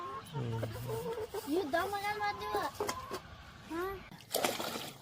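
Roosters and hens cluck and call in a village yard, with several short, rising, pitched calls scattered through the clip over steady background talk and a brief splashing near the end.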